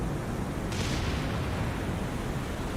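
A torpedo strikes a warship in the War on the Sea naval game, producing a heavy, loud explosion that swells into a sustained roaring rumble and crackle.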